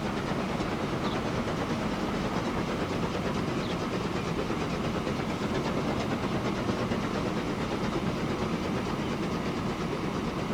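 A goods train runs in the video game Transport Fever 2, a continuous rumbling roll with faint rhythmic clatter and hiss, steady and moderately loud throughout, without voices.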